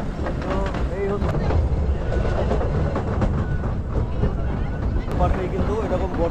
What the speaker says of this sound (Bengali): চেন্নাই এক্সপ্রেস ট্রেনটা সমস্ত এই পার্কটা ঘুরিয়ে দেখাবে